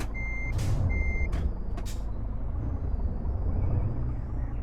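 Reversing beeps from a video-game truck backing up to hook a trailer: two steady electronic beeps over a constant low engine rumble, followed by short hissy air-brake bursts, then the engine idling on alone.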